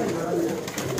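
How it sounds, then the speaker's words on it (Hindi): Pigeons coo softly in a loft of young Pathiyan highflyer pigeons in Lahore, a steady low murmur of overlapping calls held at close range for about a second. "ये चेक कर लें सारे कबूतर दोस्तों"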